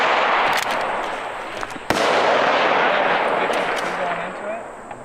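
One sharp centerfire rifle shot cracks out at a precision rifle series match in Petawawa, a single brief report amid heavy, continuous outdoor wind rumble.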